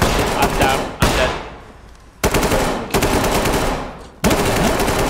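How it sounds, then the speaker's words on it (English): Automatic gunfire in the tactical shooter Ready or Not, loud repeated bursts separated by brief gaps, each volley cutting off abruptly before the next begins. "Look, he's shooting."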